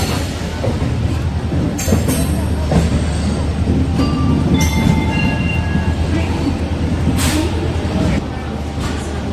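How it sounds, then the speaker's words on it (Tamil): Busy railway station ambience at KSR Bengaluru with a constant rumble of trains, occasional metallic squeals and clanks, and people talking throughout. "ஸ்டேஷன் ரொம்ப பிஸியாக தான் இருக்குது."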